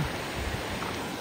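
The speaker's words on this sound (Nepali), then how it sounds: "यहाँ चाहिँ पुच्चे झरना छ" A small waterfall gives off a steady, even rush of splashing water, close and continuous for the whole short stretch, with no voices.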